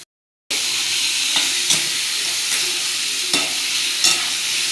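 Chicken for a spicy Kolhapuri curry is tossed into a hot pan and stir-fried, bursting from silence into a loud, steady sizzle and hiss punctuated by a few sharp spatula scrapes.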